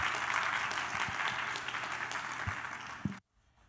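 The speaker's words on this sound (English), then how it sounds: "Please join me in welcoming our esteemed guests with a big round of applause." An audience applauds to welcome guests at a concert and birthday celebration, a dense, even round of clapping that tapers slightly before stopping abruptly.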